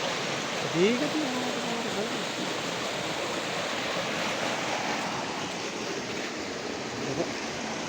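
A river stream in the hills flows steadily as a broad, constant rush of water close by, with a voice briefly heard near the start.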